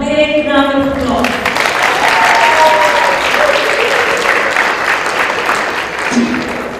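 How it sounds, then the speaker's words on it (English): Applause from wedding guests after a short skit performed by friends and relatives, a steady crowd clapping that swells and fills most of the stretch, with a talking voice and background tones at the start and again near the end. "Please give them all a big round of applause."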